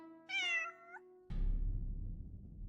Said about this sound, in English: find these adorable cats